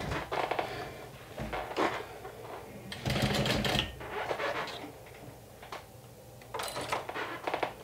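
Sewing machine running an eighth-inch seam through fabric and double-sided tape, in short uneven bursts of stitching mixed with clicks and handling noises at close range; no talking.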